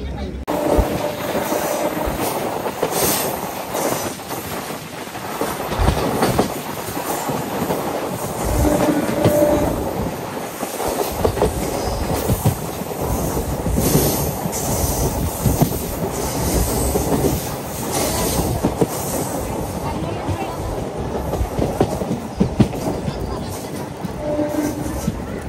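A DMU train runs between Kurnool and Guntakal, a steady loud rumble with rhythmic clickety-clack of wheels on the rails and faint squeals, heard from inside the carriage throughout.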